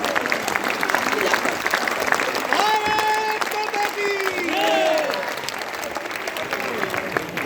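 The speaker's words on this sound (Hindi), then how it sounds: "पूरा सदन दोनों हाथ ऊपर उठाकर ताली बजाते हैं।" A hall full of listeners at a Hindi poetry recital claps with both hands raised, dense sustained applause throughout, with faint overlapping voices and a few tonal calls rising above the clapping midway.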